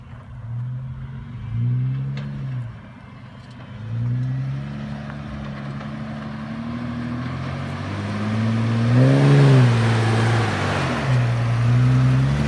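An Opel Frontera off-road car accelerates through several gear changes, its engine note repeatedly rising and dropping as a moderately close rumbling drone that grows louder toward the end.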